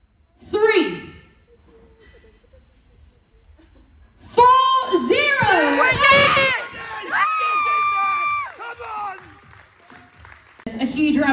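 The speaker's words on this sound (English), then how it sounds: "A huge round of applause." A crowd at the 2025 NPC Worldwide 2 Bros Pro Greatness Grand Prix bodybuilding show bursts into loud cheering, shouting and whistles after a short voice and a quiet pause, the roar carrying on to the end.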